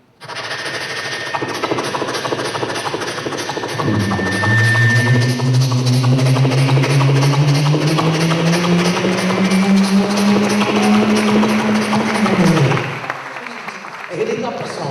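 A performer's voice imitates a train, a car and a horse all at once on stage at the end of a show, a loud sustained rising engine-like drone with rattling clatter lasting about nine seconds, then a brief pause and further vocal sounds.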